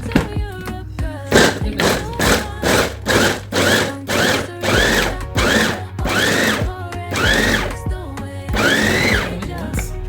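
A kitchen machine grinds beans for white okra soup, its motor whirring in short pulsing bursts that lengthen into longer runs, loud and close with a low hum beneath.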